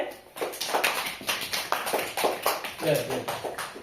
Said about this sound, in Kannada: ವೆರಿ ಗುಡ್ ಫೈನ್ ಚಪ್ಪಾಳೆ